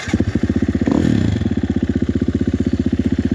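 An enduro dirt bike engine on a Bellthorpe trail thumps loudly and close in a rapid, even pulse, with a brief rev swell that settles back into the steady beat.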